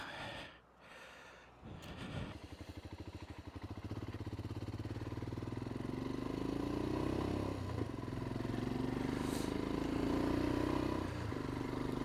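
A Royal Enfield Himalayan 411 motorcycle fitted with a GRmoto racing exhaust starts up and rides off, its steady engine drone and exhaust note rising and falling through the ride, moderately loud and alone.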